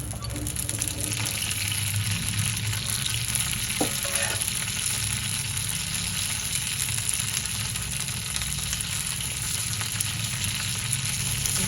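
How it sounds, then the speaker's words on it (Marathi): Small cut pieces of green chilli sizzle in hot oil in a pan, a steady, close hiss with a few faint clinks partway through. "मिरचीला ना असं डाग पडेपर्यंत आपल्याला भाजायचं. मिरच्या बघा अशा भाजायच्या."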